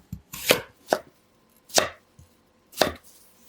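Knife chopping potatoes into small cubes on a cutting board, four crisp separate chops spaced about a second apart, close and clear with no talking.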